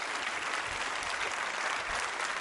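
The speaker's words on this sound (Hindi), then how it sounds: "तालियां बजाइए उनके सम्मान में।" An audience at a tourism quiz show held at RVTI for Women claps in a steady, even round of applause, moderately distant and continuous throughout.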